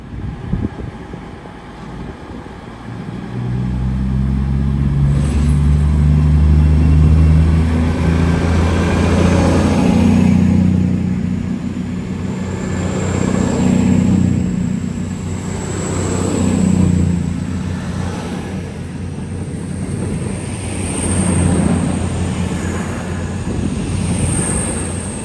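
Cross Country Voyager diesel train passing by, rising from a quiet start into a loud, sustained roar with surging engine throb and rushing air that fluctuates as the carriages go past, then slowly eases.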